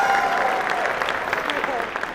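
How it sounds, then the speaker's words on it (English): A small audience at a watercolor art center event applauds for one participant, clapping steadily at close range while a voice briefly speaks over it. "Yeah, here, clap for Pat."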